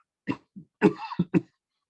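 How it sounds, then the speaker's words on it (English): A handful of close, dry coughs in quick succession, with a short throat-clearing rasp in the middle, against silence. "Excuse me, coughing."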